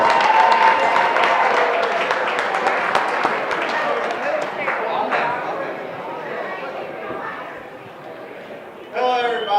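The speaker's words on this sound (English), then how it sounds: "Everybody can turn around and applause." Wedding reception guests applaud and cheer as the best man is welcomed for his first toast, a dense wash of clapping and crowd noise that fades slightly before a voice cuts in at the end.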